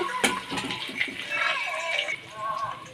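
Water runs from a tap in a home kitchen while a cut finger and hand are rinsed, a close splashing trickle with small knocks throughout.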